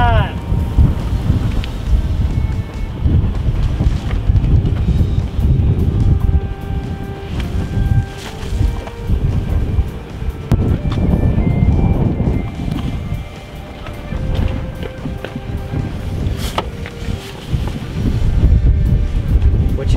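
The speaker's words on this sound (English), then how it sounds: "I'm hiding out from the wind." Fierce desert wind buffets the microphone in a loud, roaring, gusting rush that swells and eases throughout.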